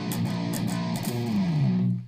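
Short electric guitar turnaround riff leading into a verse, a distorted rock part, played alone at steady volume with a bending, sliding note near the end before it cuts off.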